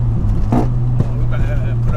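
A VW Golf MK3 VR6 turbo engine runs with a steady low drone and sharp, irregular knocking taps, while people talk over it inside the car.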